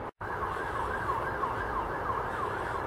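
An emergency vehicle siren wails in a repeating rising and falling pattern, heard at a moderate distance beside an allotment under steady traffic rumble.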